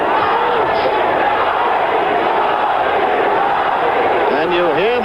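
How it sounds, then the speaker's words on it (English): A boxing arena crowd at the 1977 Ali vs. Evangelista fight roars steadily and loudly, with rhythmic chanting of the fighter's name in unison rising near the end, all under a commentator's voice. "you hear the crowd in unison chanting Ali, Ali"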